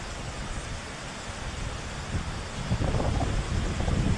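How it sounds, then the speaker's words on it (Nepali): A river swollen by a sudden glacier-burst flood in Nepal rushes with a broad, continuous roar that grows slightly louder toward the end, with wind buffeting the microphone and no voices. "खोला आइसक्यो साथीहरू।"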